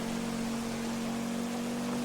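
Rain while driving in GTA V, a steady hiss of rainfall over a constant low engine hum, even and unbroken throughout.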